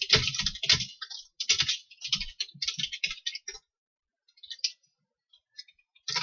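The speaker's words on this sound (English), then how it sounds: "This is a separate keyboard from my PC." Bursts of rapid typing on a separate PC keyboard, crisp clicks in quick runs, then a pause and a few scattered keystrokes; close and fairly quiet, no talking.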